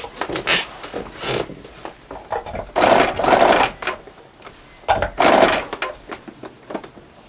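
Domestic sewing machine stitching a Christmas stocking, loud close bursts of rapid mechanical whirring in three main runs, separated by pauses with small clicks and fabric handling.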